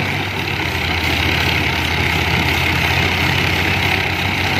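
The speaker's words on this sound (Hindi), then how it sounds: "ट्रैक्टर अपनी फुल ताकत लाते हुए" Heavy tractor engine laboring under load while pulling a loaded trailer with a sunken tire, a loud continuous low rumble that stays steady and close with no voices.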